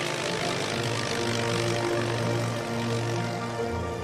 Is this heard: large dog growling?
no